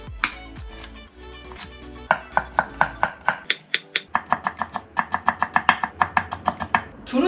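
Green onions being sliced on a cutting board for a spicy pork and kimchi stir-fry, a quick run of crisp, evenly paced knife chops, close and clear, with no talking.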